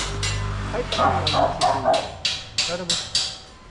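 A dog barks several times in short, sharp bursts, fairly close, with people talking faintly in the background.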